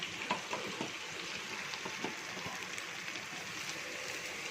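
Chettinad chicken chukka cooks in a covered pan with a steady, close sizzle and soft frying crackle throughout, no voices.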